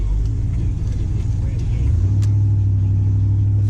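A pickup truck with a cowl hood rumbles steadily from inside the cab while driving, a low engine drone that shifts pitch midway and holds loud and even throughout, with no talk over it.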